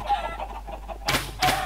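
Chickens in a Minecraft-style automatic chicken bunker give short clucks, two louder bursts near the end following softer fowl chatter, close and clear with no speech.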